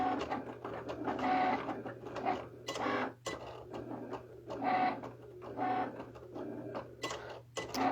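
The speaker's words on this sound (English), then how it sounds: "The nice thing about using the Cricut instead of trying to cut it by hand is you can get some pretty decent detail" A Cricut cutting machine cuts a stencil, making a soft, busy mechanical chatter of small motor buzzes and clicks in irregular bursts, fairly quiet and heard on its own.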